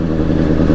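A 2020 Honda CBR600RR motorcycle engine revs loudly and close as throttle is applied, a dense, steady mid-range roar that holds through the brief moment.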